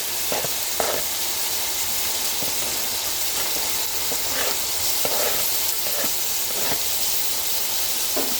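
Tomatoes hit a hot, sizzling pan while a chicken fry piece biryani is cooked, giving a steady close hiss of frying oil with scattered crackles and soft stirring clatter throughout, no voices.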